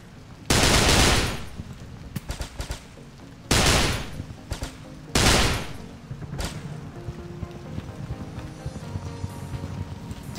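Gunfire in the Darkraze FPS game comes in three loud, close automatic bursts about a second long each, separated by gaps full of sharp clicks and small impacts, with no speech.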